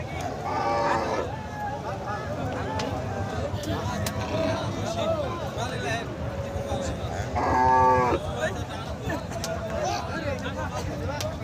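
A bull moos loudly twice, once early and once later, over a busy outdoor crowd of people talking at a cattle market in Khochabari, Thakurgaon, Bangladesh.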